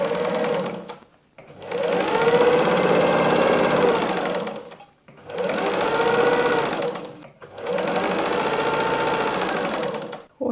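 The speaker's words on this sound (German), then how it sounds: "schieben das unter unsere Nähmaschine und wir nähen los." Sewing machine stitching a patchwork flying geese block, running in three long bursts of rapid, even mechanical whirring separated by short pauses, close and loud with no talk.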